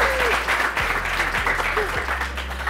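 Audience applause on an Indonesian talk show, steady dense clapping from a crowd throughout with a steady low hum beneath and brief faint sounds layered on top.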